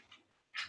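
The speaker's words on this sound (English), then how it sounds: "The moment I open the door, of course I get the dog in here." A dog indoors, heard near a yoga mat, gives a faint short whimper and then a brief louder whine or yelp in a clip under a second long.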